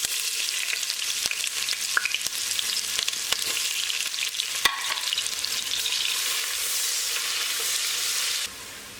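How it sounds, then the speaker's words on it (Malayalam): Sliced onion fries in oil in a pressure cooker for chicken biryani, a steady close sizzle with occasional clicks of stirring. The sound drops away near the end. "നമുക്ക് പകുതി സവാള ആദ്യം ഒന്ന് പൊരിച്ച് കോരിയെടുക്കാം."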